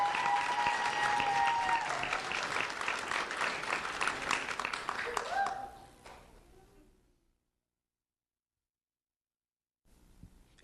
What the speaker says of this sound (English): Let's have a round of applause for Esme Easton.